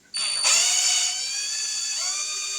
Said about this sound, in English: Now I'm starting this with an 1/8 inch bit to make a true pilot.